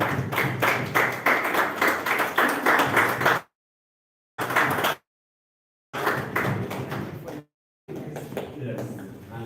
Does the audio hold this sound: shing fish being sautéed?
no